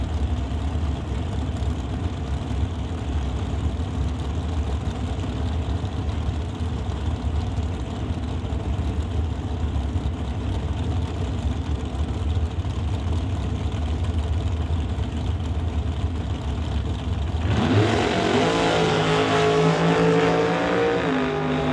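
Dragsters at a drag strip in Mission, BC sit with a steady loud engine drone, then launch at about seventeen seconds into a roaring, rising high-revving blast that stays loud to the end.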